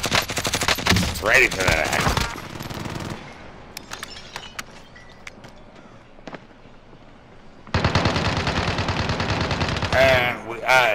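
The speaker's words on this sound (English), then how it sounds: "Yes, sentry gun. Yes, do it." Sentry gun firing in a video game, a burst of rapid shots under excited talk, then a quieter stretch of scattered hits before loud gunfire and voices return.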